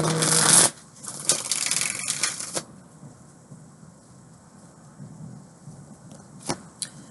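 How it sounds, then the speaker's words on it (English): A tarot deck is shuffled by hand in a few quick, papery bursts of riffling over the first few seconds, then mostly quiet with a couple of faint taps. "One more shuffle for pile number 1."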